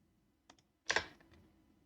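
Keys pressed on a computer keyboard while working in Blender make two soft clicks followed by a louder, sharper pair of taps, close and quiet with no speech.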